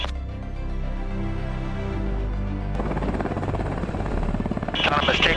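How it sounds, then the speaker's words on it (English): A Sikorsky S-70 Black Hawk optionally piloted helicopter lifts off on its own into a hover, its turbine whine and heavy rotor beat holding loud and steady, then swelling brighter and harsher as the engines spool up for liftoff. "Autonomous takeoff. Just completing into a stable hover."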